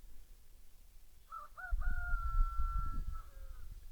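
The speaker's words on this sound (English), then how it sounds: "You can hear the rooster, Kim's rooster up there." A rooster crows once at a distance outdoors, a rising two-note opening then a long sustained call, over low rumbling wind noise.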